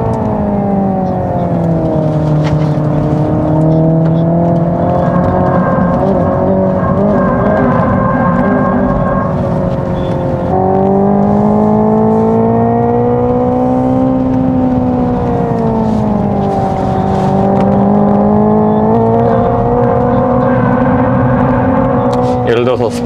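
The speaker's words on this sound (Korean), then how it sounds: "스포츠 모드에서 방금 이제 CP 지나서 가속 페달을 쭉 밟잖아요" A Hyundai Ioniq 5 N accelerating in sport mode, its synthetic engine note rising and falling in sustained sweeps, loud and close inside the cabin while someone talks over it.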